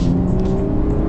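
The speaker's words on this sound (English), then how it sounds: "the engine sounds good. There's backfires" A BMW 435i F32 with a power kit, its engine revving loud and close in a steady, continuous drone with no talk over it.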